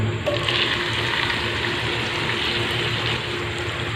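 Chopped onions dropped into hot cooking oil in a karahi for karahi gosht, a steady close crackling and bubbling fry that stays even and fairly loud with no talk.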